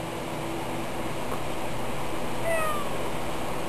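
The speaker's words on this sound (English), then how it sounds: "One more meow for the folks at home." A cat lets out a single drawn-out meow near the end, fairly close and clear over a steady background hum, with no talking.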